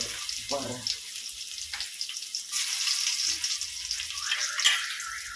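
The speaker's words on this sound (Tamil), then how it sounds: "நெசுக்குன பூண்டு, கல்லில் நெசுக்குன பூண்டு போடுறேன்." Stone-crushed garlic drops into hot oil in a pan, making a soft, steady sizzle and hiss with a few faint bumps and scrapes, nearby and quiet.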